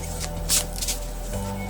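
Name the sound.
shuffling tarot cards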